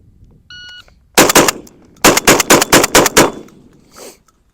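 A Mossberg 940 Pro semi-automatic shotgun fires loud, close shots after a short electronic timer beep: a quick string of three, a pause, then six rapid shots and a fainter trailing sound.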